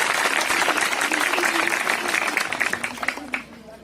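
Students and guests clapping at a school Teachers' Day and farewell ceremony, a loud steady burst of applause that thins into scattered claps near the end.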